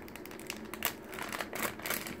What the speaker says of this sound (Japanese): ウニはハサミで切ってから自分でする